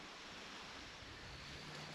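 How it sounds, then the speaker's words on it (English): Steady, broadband rushing wind noise on a hike up Springer Mountain fills the whole stretch, fairly quiet and constant, with no voices. "It is getting a little windy though."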